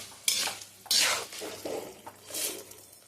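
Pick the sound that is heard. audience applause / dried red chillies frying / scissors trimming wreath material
dried red chillies frying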